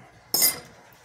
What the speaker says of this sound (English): go ahead and put your whisk in the sink